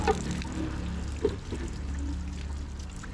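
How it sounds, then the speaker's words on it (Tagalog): Water runs slowly from a kitchen tap, a soft, steady trickle with a few small splashes, heard close but at low volume with no talking. "parang mabagal yung labas ng tubig yan"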